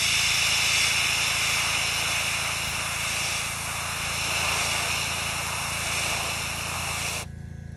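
An airbrush sprays paint onto a 1/24 Fujimi Blade Runner Spinner model, a steady, fairly faint hiss of air that runs for several seconds and then cuts off abruptly.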